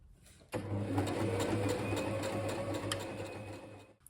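An electric sewing machine runs steadily through a long straight seam on obi fabric, starting abruptly after a brief quiet and holding an even, close mechanical whir before slowing near the end.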